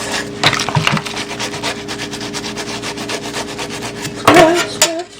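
Scrub Daddy sponge scrubbing a surface, with a steady run of close rough rubbing strokes and a louder burst of scraping near the end.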